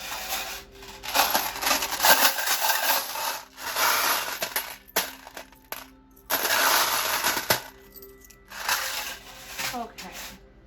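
Small metal charms clink and jingle in bursts as they are handled during a tarot reading, with rustling in between and a voice talking at times.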